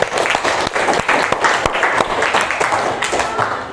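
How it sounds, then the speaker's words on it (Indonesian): Students in a classroom give a round of applause, with close, sharp individual claps over a dense, steady patter that holds for several seconds while voices mingle underneath. "Beri tepuk tangan dulu untuk ya"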